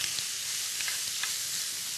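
Shrimp stir-frying in hot oil in a pan, a steady, dense sizzle that holds evenly throughout with a few faint crackles and pops, close and alone without any talking.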